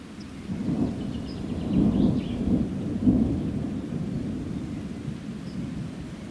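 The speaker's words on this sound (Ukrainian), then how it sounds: "Гримить, напевно, гроза буде." Low, rolling thunder rumbles continuously outdoors on a fishing trip, swelling in a few heavier peaks, with a faint patter of rain underneath.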